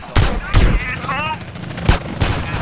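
Several sharp M18 gunshots ring out in the video game GTA during a police chase, spaced irregularly across a short stretch, with game tones and ambience between the blasts.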